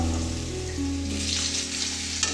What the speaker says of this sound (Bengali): দিয়ে এটা হালকা ভেজে নেব।